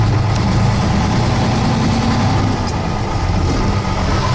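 A FIAT 619 N1 heavy diesel truck engine idles steadily, a deep low rumble with a constant mechanical throb and no voices.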